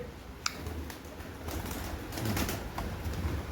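Pigeons coo in low, murmuring tones over steady background noise, with a brief flutter of wings now and then.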